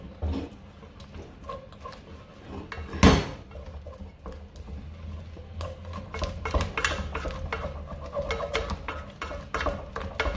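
Someone stirs a thick, sticky mixture of Quaker oats and water for cabbage swallow, making irregular scraping and clacking against the pot, with one loud knock early on and busy, close stirring after it.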